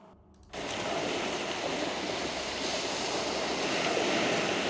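Steady rushing water beside a bridge, loud and continuous like surf or a stream, starting abruptly after a brief quieter moment and holding with a constant windy wash.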